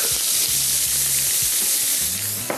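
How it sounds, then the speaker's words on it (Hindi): Half a kilo of chicken seasoned with turmeric and salt fries over high heat in a pan, giving a steady, close, broadband sizzle with a few soft low knocks from stirring, and no voices. "और इसको तेज़ आंच पे फ्राई करना है"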